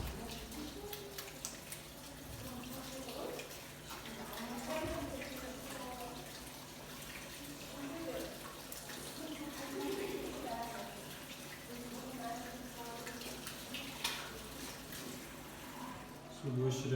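Water runs steadily from a tap during handwashing, a soft, continuous trickle close by that stays at an even level throughout, with faint background noise.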